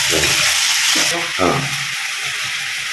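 Turkey berries (sundakkai) fry in oil for a gravy, giving a bright steady sizzle with stirring scrapes, while a voice talks briefly over the cooking.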